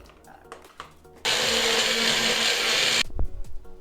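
Magic Bullet blender whirring through a thick acai smoothie mix with oat milk, a loud steady motor drone of about two seconds between quieter handling clicks.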